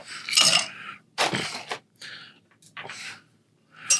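A cocktail is stirred in a mixing glass in a bar setting, giving several close, bright clinking and scraping swirls of ice against glass in short bursts with brief pauses between them.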